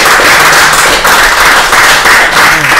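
Loud, close applause from an audience at a public dialogue event, with dense, continuous clapping and a few sharp, heavier claps over about three seconds and no talk.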